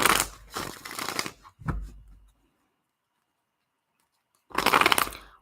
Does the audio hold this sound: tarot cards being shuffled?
yes